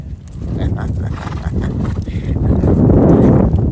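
Horse hooves clop along steadily at close range, mixed with heavy movement and rumbling background noise throughout.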